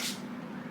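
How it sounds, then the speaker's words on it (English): Pink Raspberry Vanilla hair mist sprays in one short, steady hissing burst, close and alone. "spray this all in your hair and give it a nice comb"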